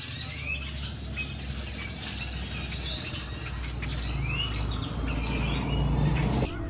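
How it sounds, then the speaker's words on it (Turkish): Birds chirp and tweet busily in a street in Puerto Escondido, Mexico, over a steady background rumble, a dense, continuous chorus of calls throughout. "böyle bir sokakta kuşlar o kadar çok ses yapıyorlar ki burada oturanlara sabır diliyorum artık"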